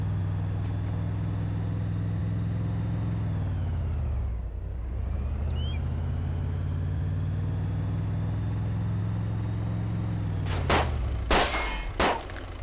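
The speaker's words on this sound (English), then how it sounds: "I smashed my car into something." A car engine drones steadily in the game DayZ, dips as the vehicle slows, then builds again before a burst of sharp impact crashes near the end, with no speech.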